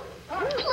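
Several dogs barking and yipping together in an excited racket, fairly close, in one short burst.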